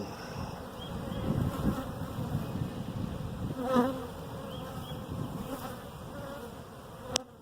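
Honey bees rescued from a tree buzz in a dense, continuous drone from a busy colony close by, steady throughout with no talking.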